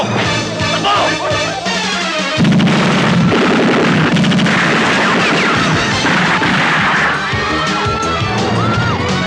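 Sharp gunshot bursts crack amid a chaotic crowd with shouting Filipino voices in a 1991 action film scene, loud and dense throughout.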